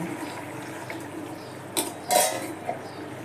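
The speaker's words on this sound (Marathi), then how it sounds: "भाजी जरा एकदम मध्ये हलवून बघते हो" A sandge vegetable curry is stirred in a pot, with a quiet simmering background broken by a couple of short scraping and clinking utensil sounds near the middle.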